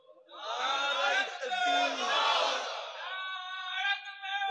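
A crowd at a religious sermon gathering shouts the takbir, Allahu Akbar, in unison: a loud sustained massed roar of many voices rising and holding for several seconds.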